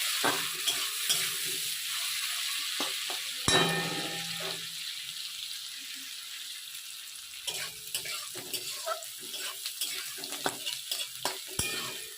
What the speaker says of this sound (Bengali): আগের থেকে কেটে রাখা পেঁয়াজের কুচিগুলো দিয়ে এটাকেও একটু ভালো করে নাড়াচাড়া করে নেবো